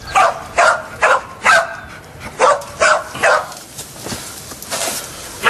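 A dog barks repeatedly in a quick, regular series of sharp woofs, close by, trailing off into softer yips and whimpers.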